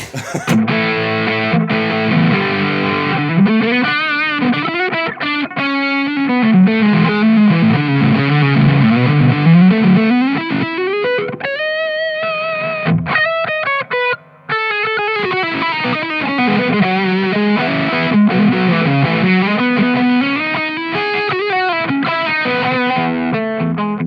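Heavily distorted electric guitar through a Boss OD-2 overdrive pedal in turbo mode, playing a driving riff with a thick, saturated overdrive tone, loud and continuous with a brief dropout midway.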